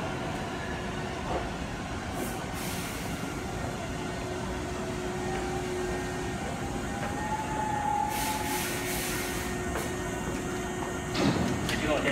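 A Hankyu Kobe Line 7000 series limited express train arrives at the platform with a steady low rumble and rolling wheel noise, while a station announcement voice plays over it.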